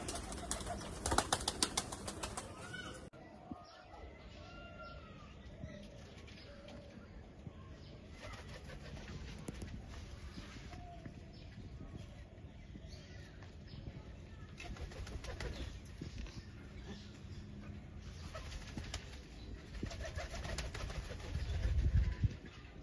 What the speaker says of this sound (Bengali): আর এই হচ্ছে পায়রা আমার।